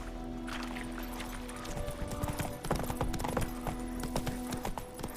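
Horse hooves clip-clop at a walk in The Witcher 3 video game, a steady run of close hoof beats over a low background hum, alone.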